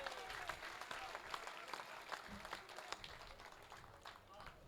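An audience at a Hindi kavi sammelan poetry gathering claps, a dense patter of many hands heard faint and distant, with some voices mixed in.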